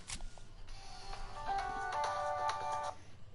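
A mobile phone ringtone plays a repeating electronic melodic pattern, fairly quiet and steady, over low background noise.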